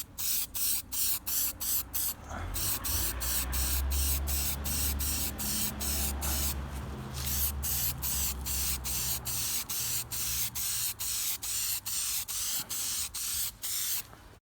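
Aerosol spray can laying primer onto a fiberglass front splitter: a steady, loud hiss in repeated bursts, broken by short rhythmic pauses and a couple of louder blasts, with no talking.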